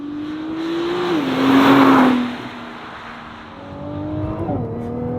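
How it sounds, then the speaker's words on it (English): A 2022 Nissan GT-R T-Spec's engine drops in pitch as the driver downshifts for a corner, with a loud surge of overrun burble, then settles into a steady drone before another gear change. "loving that noise, a little bit of overrun there"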